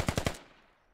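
A machine gun fires a quick burst of four close, loud shots in the Squad video game, followed by a fading echo tail.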